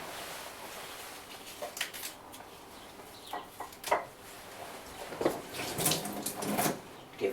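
Running tap water splashes over a bunch of leafy greens being washed by hand in a home cooking setting, with irregular gentle splashes and trickles, fairly quiet and close, and a chicken clucking faintly in the background.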